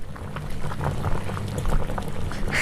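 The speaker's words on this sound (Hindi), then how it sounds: "अब गैस पर पानी उबलने की हल्की ध्वनि को सुनो" Water boils gently in a pot on a gas stove in a kitchen, a steady bubbling and hissing heard close and fairly loud, with no talk.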